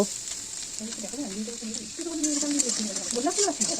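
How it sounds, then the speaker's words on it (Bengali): Finely chopped ginger and garlic sizzle in hot mustard oil in a pan, a steady bright hiss that holds throughout while a voice talks over it. "তেল গরম হয়ে গেলে দেখো একদম ছোট ছোট করে কেটে রাখা আদা কুচি আর রসুন কুচি দিয়ে দেব"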